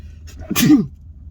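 A single sharp sneeze, close and sudden, with a short burst of breath and nothing else around it.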